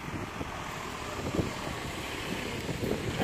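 Steady cold wind roars and buffets the microphone during snowfall, with gusts rising and falling throughout.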